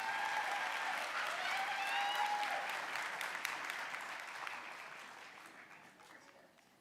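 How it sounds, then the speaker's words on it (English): An audience at a nursing graduation pinning ceremony applauds the graduates, a dense wash of clapping with a few raised voices that holds steady, then slowly fades over nearly seven seconds. "Round of applause for this group as they get the pin."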